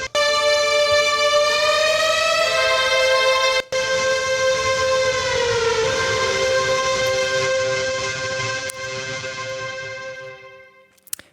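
Distorted future bass synth lead pushed through Saturn 2 saturation, a loud sustained harmonic-rich tone with gliding pitch that fades into a long buzzing distortion tail.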